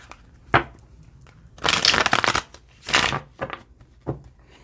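A Tarot del Fuego card deck is shuffled by hand in several quick, crisp riffling bursts with short pauses between them, close and fairly loud.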